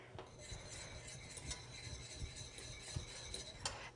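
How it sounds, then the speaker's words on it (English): A whisk stirs thickening Alfredo sauce for fettuccine in a pan, giving a steady run of soft scraping and light metallic clinks, fairly quiet and continuous, with no talking. "you want to keep whisking as well because if there are any lumps from your roux"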